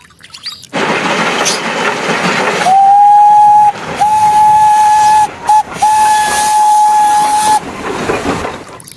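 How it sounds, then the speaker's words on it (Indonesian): A Thomas the Tank Engine steam train lets off loud hissing steam, then sounds its whistle in a steady tone broken into several short blasts, close and prominent with no talk. "Wahai, kereta api Thomas."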